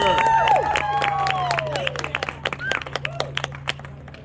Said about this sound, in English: Let's clap hard for her.